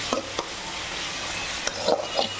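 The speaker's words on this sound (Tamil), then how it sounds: "அரைக்கட்டு புளிச்சக்கீரையை நான் எண்ணெயில் வதக்குனேன்" Gongura leaves being sautéed in oil, a soft steady sizzle with a few light stirring scrapes and taps of the spoon, close and fairly quiet.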